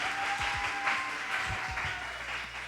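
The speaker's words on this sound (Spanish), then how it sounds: "¡Aplauso!" A church youth gathering applauds its pastors, who are guests on the programme: steady, moderate clapping from a crowd with a few low thumps mixed in, continuous through the short stretch.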